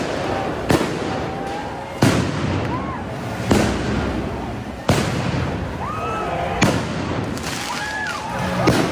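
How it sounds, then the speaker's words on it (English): Fireworks bursting outdoors in Portland amid a street protest: sharp loud booms land about every second and a half, each trailing crackle and rumble, with faint whistling rising between blasts and a steady crowd hubbub beneath. "Mythical fireworks."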